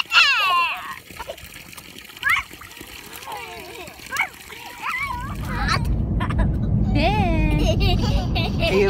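Children's high voices chatter and squeal, then loud continuous splashing and sloshing water takes over while the kids keep talking.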